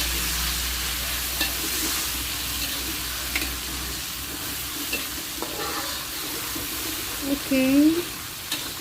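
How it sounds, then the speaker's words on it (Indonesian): Chilies sizzling in hot oil in a pan while cooking dendeng badaruak with potatoes. The frying noise is steady and close, a voice speaks briefly, and a short squeaky tone rises near the end. "kita masukkan cabai."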